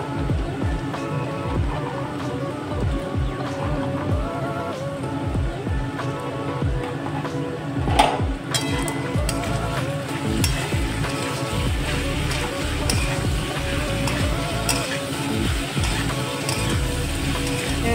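Green peas hitting a hot pan of frying spices with turmeric, dried chilli, cumin and green chillies, a steady crackling sizzle with clinks of a spatula against the pan.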